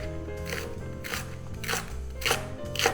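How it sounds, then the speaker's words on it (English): A knife slices thinly through kimchi cabbage on a cutting board, five crisp crunchy cuts at a steady rhythm, close and clear, with no talking. "So I'm just gonna go across and just slice it thin"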